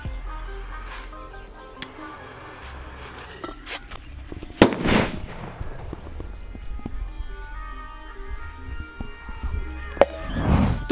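A sharp blast from a mini bullet firecracker set off inside a metal lota pot during Diwali, with a metallic ring, followed later by a second burst, against faint background noise.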